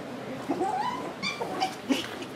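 Australian Terrier puppy whimpering in a few thin, high, wavering cries, soft and close, with faint yips mixed in over a quiet room.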